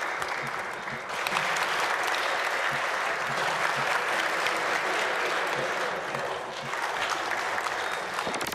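Government officials applaud during a long presidential address, a sustained, dense round of clapping from a large hall filling the whole span with steady intensity, swelling briefly after the first second.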